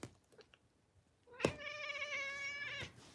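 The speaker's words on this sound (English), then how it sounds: "My cat is in the couch!" A pet cat stuck inside a couch meows once, a drawn-out, clear cry that rises and holds for over a second after a few faint rustles.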